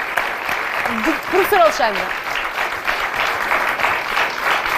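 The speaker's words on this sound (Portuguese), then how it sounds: "Um aplauso para os outros convidados." A television studio audience gives applause for the guests at a school radio station's launch, with a steady wash of clapping running under a speaking voice.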